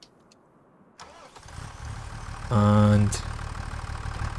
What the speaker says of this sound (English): let's jump in the tractor